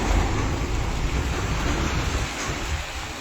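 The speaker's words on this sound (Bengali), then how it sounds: "এই শ্রাবণ মাসের বৃষ্টি" Monsoon rain during the Shravan season pours down in a dense, continuous roar, close and loud, with a low rumbling wash and no talk.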